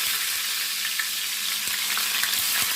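Ginger and garlic paste frying in hot oil on a lowered flame for Karachi-style nalli nihari, a steady close sizzle with a few small pops and clinks, no talking.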